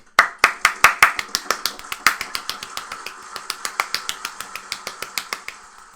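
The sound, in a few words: hand clapping along with a sound effect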